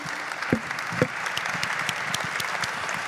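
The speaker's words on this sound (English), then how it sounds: "I'll ask you to come and have a good hand of applause for them" Conference audience applauds next-generation development leaders on stage, a steady even clapping from a moderately sized crowd with a few sharper claps standing out.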